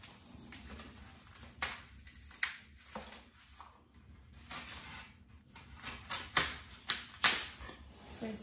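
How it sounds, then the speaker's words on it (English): A blade cuts through foam board and cardstock pieces for a DIY party decoration, a close, scratchy scraping with sharp clicks and snaps growing louder toward the end. "So, I'm just cutting inside the lines."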